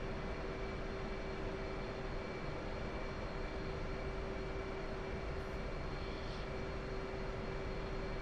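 A tanker aircraft in the DCS World flight simulator taxis and rolls into its takeoff run, giving a steady, unbroken engine roar with a sustained tone that stays constant throughout, with no voices.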